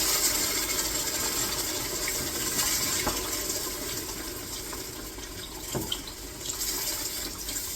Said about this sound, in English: adding my broth